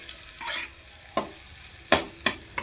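Spiced paneer curry with turmeric, cumin, coriander and chilli powder sizzles in a pan as water is poured in, giving a steady hiss broken by several sharp spoon scrapes and clinks while the gravy is stirred.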